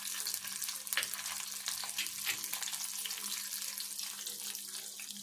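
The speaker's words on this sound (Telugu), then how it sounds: "ఇదే నూనెలో కొంచెం జీలకర్ర వేసుకొని కొన్ని ఆవాలు కూడా వేసుకొని మనం ఇక్కడ చేసుకున్న ఉల్లిపాయ వేసుకోవాలి." Chopped onion with cumin and mustard seeds frying in hot oil in a pan, a steady close sizzle and crackle with faint stirring scrapes, continuous and moderately quiet, with no talking.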